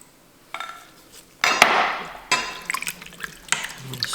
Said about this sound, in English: Start with the beef broth. And that's a total of 4 from that measuring cup.